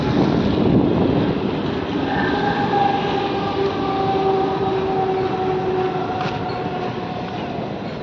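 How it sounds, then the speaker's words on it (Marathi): A train rolls along a bridge overhead near a rural temple, a loud, steady rumbling roar with faint rhythmic rail clatter and high metallic squeal, sustained for the whole stretch without talk. "मी बघा वर ट्रेन चालले वरून"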